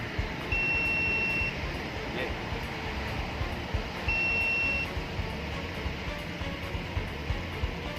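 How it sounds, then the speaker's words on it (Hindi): An anti-sleep driver alarm mounted above the driving seat gives two long, steady electronic beeps a few seconds apart over road noise, with a voice speaking briefly between them. "अब जैसे ही मेरा सर नींद की वजह से झुकेगा, अलार्म बज पड़ेगा।"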